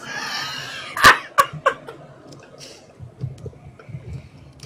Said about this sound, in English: I think I've mastered coughing.